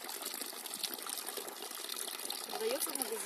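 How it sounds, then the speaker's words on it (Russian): Mineral spring water flows steadily from the ground at a roadside spring, a continuous close trickle and splash, with a brief voice in the background. "минеральная вода бежит из земли"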